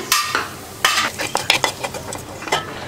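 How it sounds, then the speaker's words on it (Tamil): Sautéed shallots are stirred into a spinach kootu in a pan, giving close, fairly loud scraping and clinking spoon strokes in an uneven rhythm over a light sizzle. "கூட்டுக்குள்ளே நான் வதக்கின வெங்காயத்தை நான் போட்டுக்கிறேன்."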